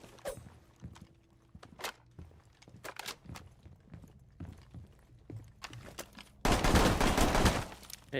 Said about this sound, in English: he's shooting the hatch with a magnum thing.